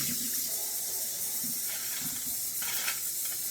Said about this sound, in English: I need to change this water already. Rinse that bowl out.